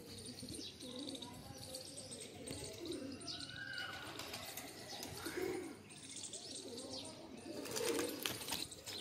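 A pair of pigeons settles in to land, soft wing flaps and faint coos and chirps scattered through a quiet, low-level backdrop with some distant voices.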